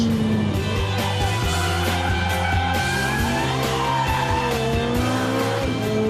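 A Ferrari 430 in race mode slides through a corner, its tires squealing in long, loud, rising and falling wails over the steady engine note, close and continuous with no talk.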